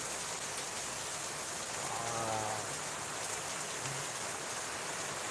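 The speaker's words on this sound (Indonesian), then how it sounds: "Hujan deras banget." Heavy rain pours in a steady, dense hiss that fills the whole stretch, with a faint low voice-like drone briefly underneath.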